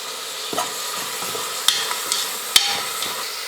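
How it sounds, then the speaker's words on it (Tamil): Carrot and curry leaves sautéing in oil for a pongal, a soft steady sizzle with several sharp spoon or spatula clicks against the pan, close by and without voices. "1 நிமிஷத்துக்கு எண்ணெயிலே நல்லா வதங்கட்டும்."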